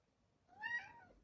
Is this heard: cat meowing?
yes